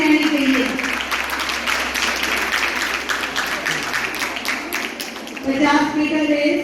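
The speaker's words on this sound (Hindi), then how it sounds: "ताली बजती रहनी चाहिए." Audience clapping at a school sports meet prize distribution, a sustained round of applause heard with a voice talking over it at the beginning and end.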